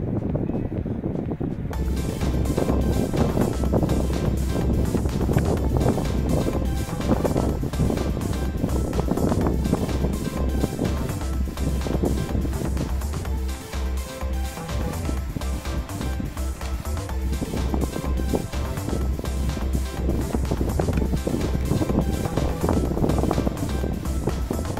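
A DJI Mini SE drone hovers outdoors at sunrise in fairly strong wind, giving a steady, loud rush of wind noise over a constant low whirring hum that runs unbroken for the whole stretch.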